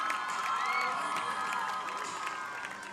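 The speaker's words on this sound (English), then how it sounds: "Please give a round of applause" A crowd in the stands at a high school football game applauds and cheers, filling the air with a dense, steady wash of clapping and scattered shouts that fades slightly near the end.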